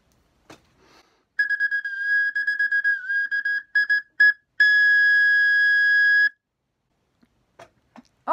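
A recorder (blokfluit) plays clear, whistle-like held notes in a short phrase, then one long sustained tone, close and fairly loud, with silence around it and no voices.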